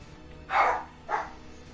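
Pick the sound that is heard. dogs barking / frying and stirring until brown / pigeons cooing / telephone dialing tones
dogs barking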